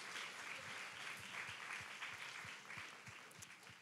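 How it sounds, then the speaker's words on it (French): Applause from the audience at the final of a university eloquence contest, a dense, steady patter of many hands clapping that fills the room, loud throughout and tapering slightly toward the end. "Je vous prie de faire un tonnerre d'applaudissements pour Monsieur Demullier, s'il vous plaît."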